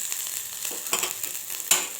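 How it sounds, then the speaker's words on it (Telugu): Two small chopped onions frying in a little oil for a mashed brinjal curry, with a steady close sizzle and a few soft scraping stirs, one sharper clack near the end. "ఒకసారి ఇలా కలిపేసుకోవాలి ఆనియన్స్ని."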